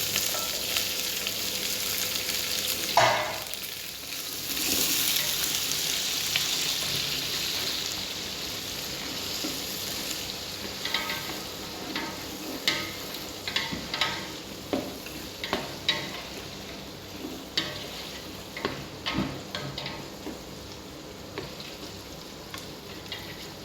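Spice paste, tomato and chili fry in a pan as the base for a dumba meat biryani, giving a steady close sizzle with scattered clacks of stirring.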